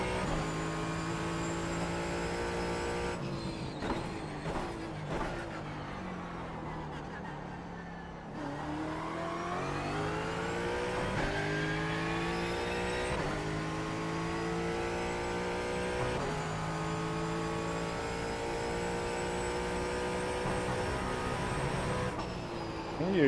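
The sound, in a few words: Ford Mustang GT4 engine accelerating at Sonoma in iRacing video game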